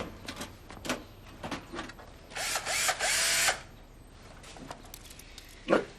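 A power tool whirs in a loud burst of about a second, surrounded by scattered clicks and knocks.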